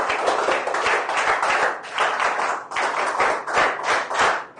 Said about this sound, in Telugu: గట్టిగా చప్పట్లు కొట్టి అందరూ అభినందించండి